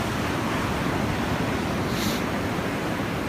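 Ocean surf of modest three-to-four-foot waves breaking on a shore, heard as a steady, loud, broadband wash with no distinct individual crashes, close to the microphone and without talk.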